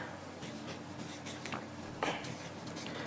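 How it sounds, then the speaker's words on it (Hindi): Pen or pencil writing a name on a sheet of paper, a soft continuous scratching with a few short strokes, close and quiet against a steady background hiss. "उसका नाम आपको इस कागज पर लिखना है"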